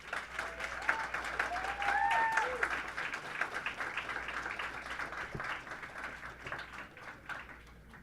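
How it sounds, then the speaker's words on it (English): Sustained audience applause at a peace conference awards ceremony honoring recipients: a dense, steady wash of many hands clapping that swells briefly and slowly tapers, with a few thin tonal whistles above it. "Let's give a final round of applause to all of our recipients tonight"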